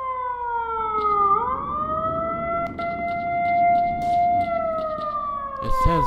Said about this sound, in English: this siren is pissing me off